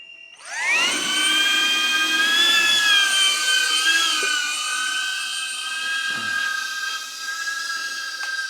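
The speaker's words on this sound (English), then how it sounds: "We're gonna do a drone flight in here." A small drone whines loudly as it takes off and hovers inside an abandoned Thermos factory in Norwich, Connecticut. Its high rotor pitch stays steady and close, with faint clanks in the background.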